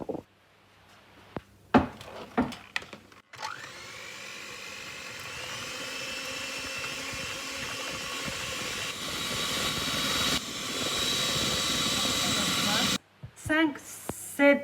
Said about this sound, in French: Montez nos œufs avec le sucre